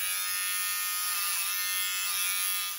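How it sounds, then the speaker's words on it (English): An electric razor trims hair in a steady, close, continuous buzz that holds loud and even throughout, with no talking over it. "And take your trusty little razor."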